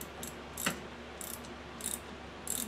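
Ratchet clicking in several short bursts while snugging down bolts with a 16mm socket on the wiper motor of a 2004 Chevrolet Silverado, crisp close ratcheting with brief pauses between strokes over faint background hum.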